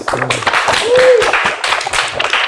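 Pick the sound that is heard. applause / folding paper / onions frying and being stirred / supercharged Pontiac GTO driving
applause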